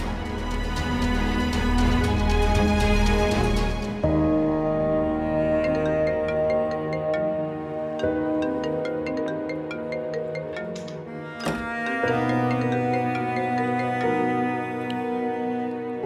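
A phone rings on and on unanswered, a repeating melodic ringtone pattern with tonal bursts and short pauses, close and fairly loud with no one speaking.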